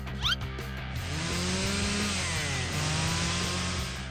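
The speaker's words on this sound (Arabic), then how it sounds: "أوه ده منشار" A video game chainsaw revs up after a brief rattle and then runs with a steady, loud mechanical drone, its pitch shifting slightly as it idles and buzzes on.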